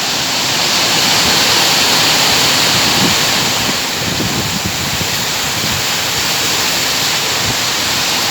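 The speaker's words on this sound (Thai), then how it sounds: "ลมแรงมากครับทำอะไรไม่ได้เลยครับ" A dense, unbroken roar of strong gusty wind off the sea and heavy rain, loud and constant, with gusts blasting straight into the microphone.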